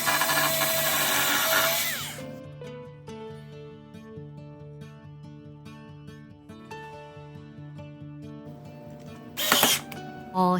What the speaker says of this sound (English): It's all lined up, and now we can drill the holes.